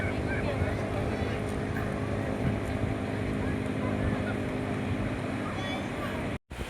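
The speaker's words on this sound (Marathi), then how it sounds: "आणखी एक हा साहसी बोट" An adventure speedboat on the sea off the Konkan coast gives a steady, loud engine roar mixed with wind and water rush, and a voice talks over it.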